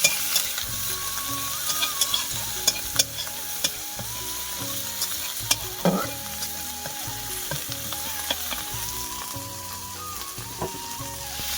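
Ground spice paste sautéing in a pan with a steady sizzle, punctuated throughout by repeated scraping and clinking strokes of a spatula stirring it, close and continuous with no talking.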